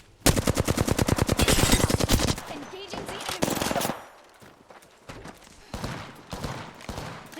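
Rapid automatic gunfire in the battle-royale video game Apex Legends, loud bursts of fast shots at the start, then scattered shots and further bursts while players talk excitedly over the fight.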